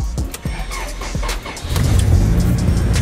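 An Acura Integra idles in a garage during alternator troubleshooting, a steady close engine rumble with a few clicks and knocks early on, rising to a louder, fuller running drone in the second half.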